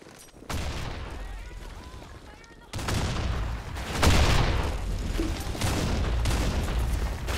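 Many grenades explode in the shooter game BlackShot, a dense run of booms and gunfire bursts that come in loud waves, with voices shouting under the barrage.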